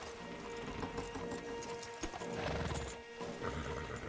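Horses and stallions walking, tethered together and led along in the video game Red Dead Redemption 2, with soft hoof clops and tack rattling under ambient game sound and a brief whinny-like rise.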